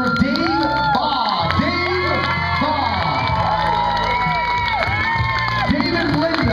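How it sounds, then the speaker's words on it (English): Crowd at a Dutch oven cook-off cheering and whooping loudly with some clapping, voices rising and falling in a continuous roar, with pitched shouts over the noise and no clear speech. "Big round of applause. Come on, everybody, put your hands together. Make some noise for Dave Baugh."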